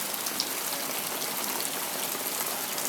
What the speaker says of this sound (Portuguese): Olha, mais chuva, pessoal, mais chuva.